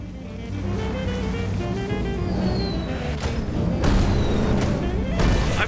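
In the video game Deliver At All Costs, artillery fires on a target: heavy booms crack out at intervals over a steady rumbling background, several sharp blasts landing close and loud in the final seconds.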